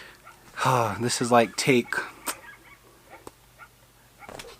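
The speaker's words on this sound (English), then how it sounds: "dogs want to start barking right now" Dogs bark and yip nearby, short sharp calls mixed in with a person talking, followed by a few faint scattered clicks and knocks.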